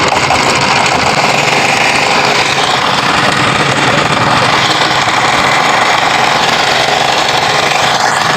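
A trawler boat's engine runs loud and close at a river ferry ghat, a constant heavy rattling drone with a fast mechanical chatter and no pauses.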